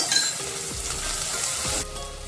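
Onion and curry leaves sauté in a pan for a mochai bean kulambu, a steady close frying sizzle with light stirring and faint utensil clinks, then a brighter hiss near the end.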